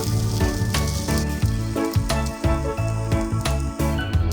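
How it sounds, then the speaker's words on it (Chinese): An eggplant patty with filling fries over low heat in a pan, giving a steady, close sizzle that runs the whole time beneath rhythmic background music. "将茄子翻面继续煎2分钟即可。"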